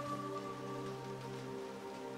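Rain falling in Hitman Absolution, a continuous even patter of raindrops under steady tonal background music, no voices.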